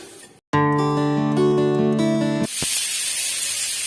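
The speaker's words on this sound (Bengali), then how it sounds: "জিরেটা হালকা ফ্রাই হোক।" Cumin seeds dropped into very hot oil in a home kitchen where turmeric has already blackened in the pan: a brief clatter, then a loud, steady hiss and sizzle that carries on to the end.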